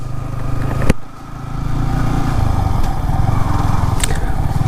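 A motorcycle engine drones steadily at close range, with a low rumbling rhythm and a brief sharp knock near the start.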